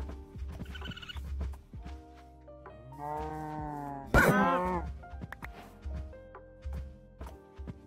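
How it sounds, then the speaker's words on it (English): Cows in a Minecraft WitchCraft modpack world, several drawn-out moos close by, with a sharp hit and a sliding moo in the middle and soft footsteps and thuds between them. "So actually, real quick, I am gonna kill one of these cows."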